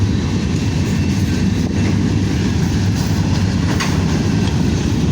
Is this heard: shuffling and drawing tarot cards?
no